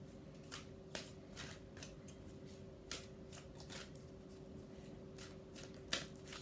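Oracle cards being shuffled by hand in a quiet room, a series of soft papery riffles and flicks at irregular intervals over a steady low hum, fairly faint and without talk.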